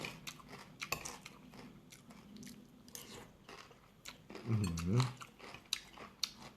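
Crunchy bites and chewing of spicy green bean salad with fermented pork and crisp pork rinds, close up and fairly quiet, with one louder crunching bite near the end and soft talk around it.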